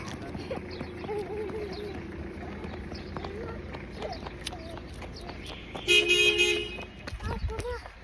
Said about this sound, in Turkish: Bip bip diyor.